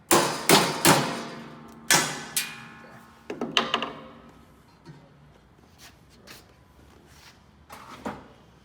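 A small builder's chisel is tapped to knock the lever plate off a Jayline UL200 door, giving several sharp metallic knocks close by, then lighter clinks and scrapes as it loosens.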